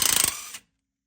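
A 13 mm wrench ratchets in a quick, close run of about ten clicks, loosening the nuts on the anti-moan bracket at the rear brakes of an SN95 Mustang GT, then stops abruptly.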